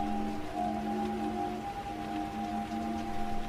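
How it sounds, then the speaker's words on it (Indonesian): Heavy rain pours as a dense continuous wash, used as a horror-story sound effect, with a low sustained droning tone running underneath throughout. "apalagi hujan turun semakin lebat"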